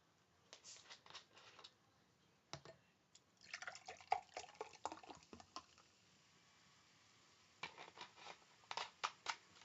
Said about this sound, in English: I'm gonna pour Coca Cola in it.